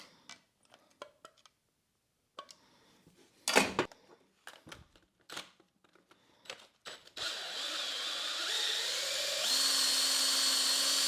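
A Logan metal lathe runs in its newly replaced change gears, starting after some scattered clicks and handling noises into a steady mechanical whir that grows louder and holds in the final seconds, with no talk.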